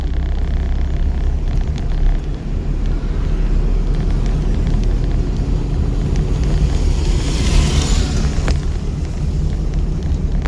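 Car engine droning and rising steadily as the vehicle accelerates during a driving lesson, a loud continuous low rumble with wind buffeting throughout and no talk.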